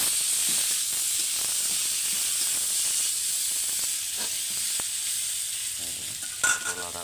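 Pointed gourd and potato pieces sizzle steadily in hot spiced oil, with a continuous loud frying hiss and occasional stirring clatters near the end.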